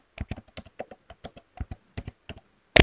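Password typed on a computer keyboard, a quick irregular run of about a dozen crisp key clicks, close and clear, ending with a sharper final keystroke.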